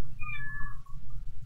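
A cat meows in a drawn-out, rising and falling call near the listener, over a low background hum, with no talking.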